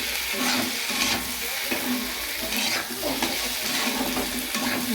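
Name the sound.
tomato, ginger and garlic frying and being stirred in a pan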